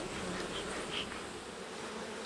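Honeybees buzz steadily at an open alpine-style beehive during hive expansion, a dense, continuous hum close by with no talking.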